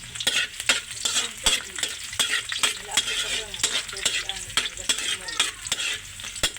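Onion and garlic sizzle in a hot pan while a utensil stirs them, with steady frying hiss broken by frequent scraping clicks and taps against the pan, close and with no talking.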